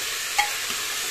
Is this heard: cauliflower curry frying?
yes